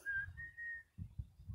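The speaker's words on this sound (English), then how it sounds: "Quit listening to your whistling." Someone whistling outdoors in a backyard: a short, thin tone that slides slightly in pitch and holds, followed by soft low rustling and thumps nearby.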